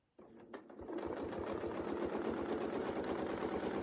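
A quilting sewing machine starts up and runs in a steady, rapid stitching rhythm along a Westalee arc and curve ruler, close up and fairly quiet, with no talk.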